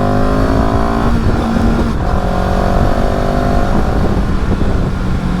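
A CFMoto CL-X 700 motorcycle engine drones loud and close from inside the rider's helmet, a steady rumble at road speed in third gear with wind noise and slight pitch shifts.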